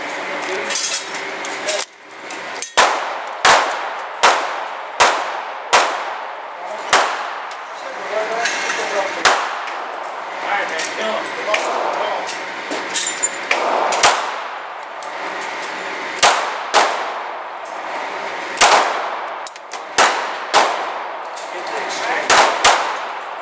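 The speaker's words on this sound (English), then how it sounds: "Phil's gonna do the steel case ammo in his pistol" A Springfield pistol firing steel case ammunition, sharp loud shots in irregular succession, some in quick pairs, with ringing clangs of steel targets and brief voices between shots at an outdoor range.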